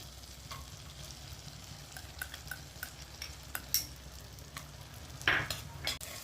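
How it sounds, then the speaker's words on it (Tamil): Steady sizzle of garlic frying in butter in a pan until brown, with a few soft stirring scrapes and clinks of a utensil, close and moderately quiet, with no talk. "நல்லா ப்ரௌன் கலர் வர வரைக்கும் நம்ம இதை பொரிச்சிக்கலாம்"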